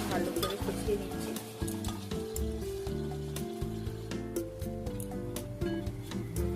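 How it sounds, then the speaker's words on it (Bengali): Pieces of mutton are stirred and stir-fried in a pan for kosha, a steady sizzle under repeated scraping and clinking of a spatula against the metal, close and busy with no talk. "ভালো করে কষিয়ে নিচ্ছি।"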